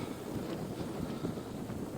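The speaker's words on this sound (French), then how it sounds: "Donc là on a un vent d'environ 20 km/h" Steady wind of about 20 km/h buffets the microphone at the seaside, a continuous low rumbling roar with gusty fluctuations and no voices.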